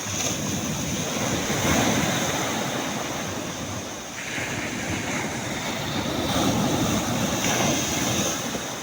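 Large sea waves roll and break against the shore in strong wind, a continuous loud roar of surf with surging swells and heavy wind buffeting the microphone.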